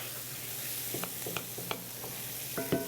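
Onions caramelize in a hot pan with a continuous sizzle. A utensil stirs them, making scraping sounds at intervals and a louder clatter near the end. The sound is close and there is no talking.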